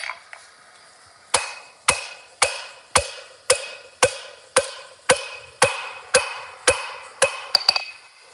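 A blacksmith's hammer rings on hot metal while forging flat jaw tongs, about a dozen sharp, evenly paced strikes, each with a brief metallic ring, close and loud with no talking.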